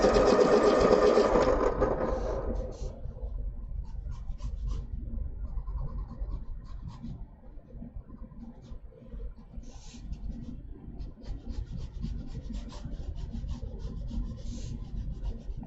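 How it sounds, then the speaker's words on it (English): A stick being sharpened, starting with a brief loud grinding burst and then settling into steady scraping and rubbing, close up and continuous with no talking. "I'll sharpen the stick here just a bit."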